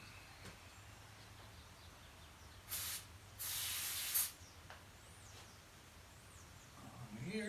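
Two short hissing bursts of aerosol brake cleaner spray on a 1965 Yamaha YDS3 motorcycle steering head, the second longer, standing out over a quiet, low background hum.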